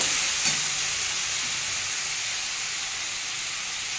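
Turmeric and cumin spice paste fries in hot oil with a steady, close sizzling hiss that holds at an even level throughout, with a light stir near the start.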